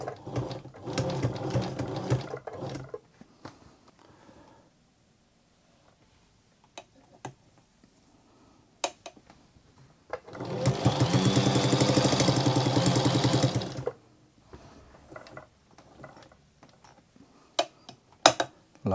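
A 1927 Domestic rotary sewing machine made in the U.S.A. runs close by, whirring steadily in two stitching bursts with quiet pauses and scattered mechanical clicks between them.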